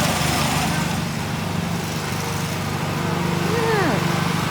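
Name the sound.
mower cutting grass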